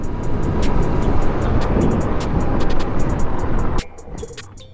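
Talaria MX4 electric dirt bike rolling over gravel, a loud steady rush of tyre crunch and wind noise that drops off abruptly near the end, leaving a quieter hiss.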